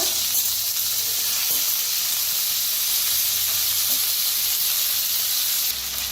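Chopped onion and spring onion frying in hot oil with mustard seeds, cumin and asafoetida in a pan, giving a constant, close hiss and sizzle that barely changes over several seconds, with no one talking.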